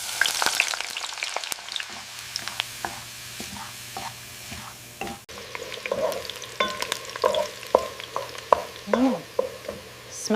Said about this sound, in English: Frying the shallots until fragrant.